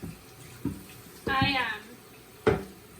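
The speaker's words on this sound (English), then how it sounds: "So I'm just rinsing off my sauerkraut tamper." A sauerkraut tamper is rinsed under a running tap, giving short bursts of splashing water with a louder mid-clip gush and a brief clatter at the end, close by in a kitchen sink.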